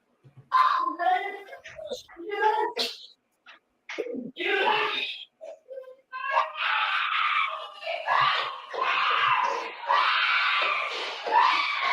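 A woman's loud, anguished screams come from a played recording in a series of piercing bursts separated by short silences, growing longer and more continuous toward the end.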